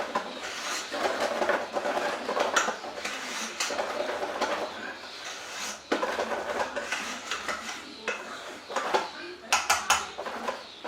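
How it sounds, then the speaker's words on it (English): A whisk clinks and scrapes against a bowl while folding egg white into a chocolate mousse mixture. Quick metallic taps come in irregular bursts at close range. "we're going to whisk that in"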